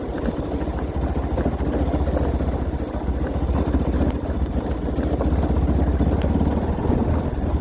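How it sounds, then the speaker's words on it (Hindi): A 200cc motorcycle rides along an unpaved dirt road, its engine running in a steady, close, pulsing drone throughout. "अब लगा लो ये 200 सीसी की बाइक है ये तीसरे चौथे गियर में उड़ती है गाड़ी।"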